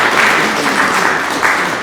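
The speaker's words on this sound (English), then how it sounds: "Round of applause" Brief burst of applause from the audience at a Queensland electric vehicle association meeting, a dense, even clatter of clapping hands at close range.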